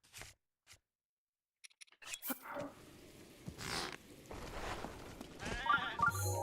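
A mountain goat in the Breath of the Wild video game bleats in short, nasal bursts, mid-distance and moderately loud, after a near-silent opening broken by a few faint clicks.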